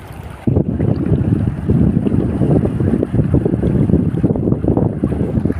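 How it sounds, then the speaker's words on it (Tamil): Fast-flowing floodwater rushing during heavy rain, a dense, loud, low roar of churning water with wind-like buffeting at the microphone, continuous and close, with no talk. "இவ்வளோ வேகத்துக்கு போகுது தண்ணி"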